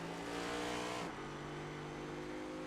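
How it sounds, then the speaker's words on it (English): Race cars pushing hard through a corner at the EchoPark Texas Grand Prix, a loud continuous engine roar with a brief squealing tire edge that drops away about midway into steady road noise. "you must be able to hear the tires squealing at least by now"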